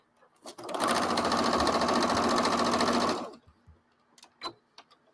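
Close and loud, a sewing machine stitches pieces of fabric in one continuous run of about three seconds, stopping abruptly, followed by a few small clicks and handling noises in a quiet room.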